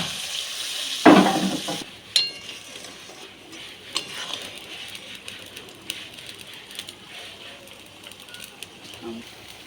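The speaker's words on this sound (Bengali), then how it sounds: "আমি এবারে জল দিয়ে দেবো জল দিয়ে দিচ্ছি" Water is poured into fried spice masala for a thin foloi fish curry, making a short splash and hiss near the one-second mark, followed by faint sizzling and bubbling against low kitchen background noise.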